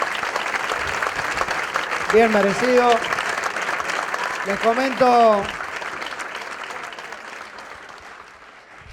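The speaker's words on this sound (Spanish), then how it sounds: "un fuerte aplauso para el ministro" Audience applause for the minister at a union training seminar, a broad steady clatter of clapping with a voice speaking over it twice before the applause fades toward the end.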